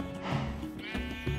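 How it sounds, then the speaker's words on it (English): A sheep bleats once in a video game, a short close call heard alone with no talk. "Come here, sheep."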